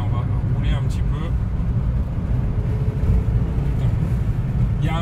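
Abarth 595 hatchback pulling away, its engine droning low and steady from inside the cabin, with brief voices over the rumble.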